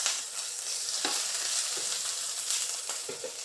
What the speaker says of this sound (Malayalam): നമ്മുടെ ഇഞ്ചിയുടെയും വെളുത്തുള്ളിയുടെയും ആ പച്ച ചൊവയൊന്ന് മാറുന്നത് വരെ നമ്മളൊന്ന് അത് ഇളക്കി കൊടുക്കണം